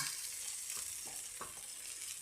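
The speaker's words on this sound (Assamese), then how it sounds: "এইখিনি যেতিয়ালৈকে তেল নোলায় তেতিয়ালৈকে ভাজি থাকিব লাগিব।" Tomato paste and green chilli fry in hot oil in a pan for a fish masala gravy, giving a steady close sizzle with a few soft stirring scrapes and no talk.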